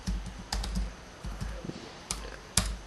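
Keys on a computer keyboard clack in short bursts as a file name is typed, a few quick clusters of taps separated by brief pauses, close and clear.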